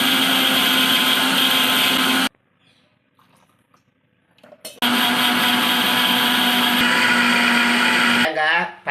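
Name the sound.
mixer grinder grinding coconut, dried chillies and cumin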